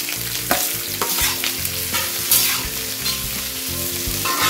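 Two large sliced onions sautéing in a pan over a high flame, a steady loud sizzle with repeated scraping and stirring clatter throughout, no talking.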